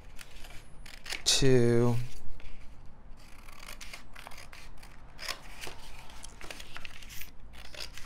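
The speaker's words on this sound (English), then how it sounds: "we're just gonna cut it into 4 pieces" Scissors snip paper into pieces during a Halloween skeleton paper craft, with a loud, close cutting rasp near the start followed by softer paper rustles and crinkles while a person counts aloud.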